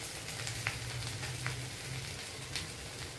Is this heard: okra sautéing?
yes